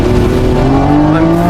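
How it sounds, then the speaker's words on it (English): A Lamborghini Revuelto V12 supercar, engine mounted behind the driver, cornering on a racetrack: a loud, steady engine drone with sustained harmonic tones that slowly shift in pitch, accompanied by tire and road noise, with no talk. "I can feel the rear lighten and that engine behind me start to push the rear around"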